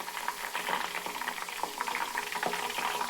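Grated coconut fries in hot oil at home for hair oil, giving a continuous bubbling sizzle with small crackles and pops, steady and close, no voices.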